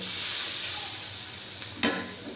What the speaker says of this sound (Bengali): একটি হাতার সাহায্য নিয়ে আমি এভাবে ব্যাটারটা অল্প অল্প করে দিয়ে দেব